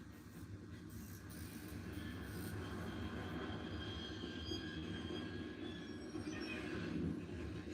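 A subway train rolls along steadily in a grimy, run-down station or tunnel within a film, with a constant rumble and faint wheel squeal rising near the end, loud and continuous with no talking.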